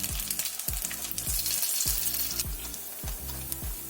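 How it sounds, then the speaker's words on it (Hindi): Ginger paste fries in ghee over low-medium heat, a dense steady crackling sizzle with a regular low thumping underneath, close and fairly loud, with no talking. "अदरक को अच्छी तरह से सेक लिया।"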